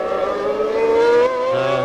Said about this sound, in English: And Gachot's car sounding a bit rough